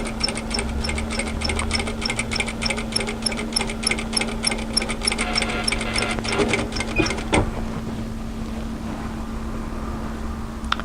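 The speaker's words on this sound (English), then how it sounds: "I'm going to feed the shoulder here, which is the left hand side as if I'm wearing it, in, and I'm just going to start stitching." A sewing machine stitches the shoulder seam of a resort kimono kaftan in one steady, fast, close run of about seven seconds, then stops and leaves a quiet room hum.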